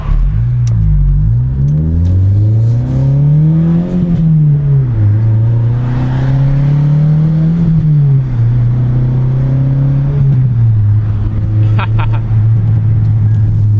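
Old car's engine pulls hard through the gears, a loud close drone climbing in pitch, dropping at each shift and rising again, with a voice heard over the engine.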